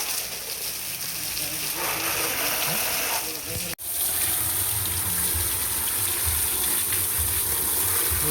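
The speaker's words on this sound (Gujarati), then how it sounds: "ગરમ પાણી આવે" Hot water gushes loudly and steadily from a tap, a continuous broadband rush with a brief cut near the middle before the flow resumes even stronger.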